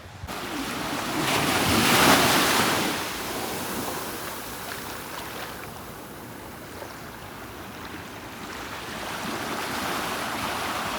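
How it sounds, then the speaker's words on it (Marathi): Ocean surf rolls in at Paradise Beach in Gokarna with steady wind buffeting the microphone, a wave swelling loudly early on, then a continuous wash of breaking water and gusts with no voices. "ये पैराडाइज बीच है."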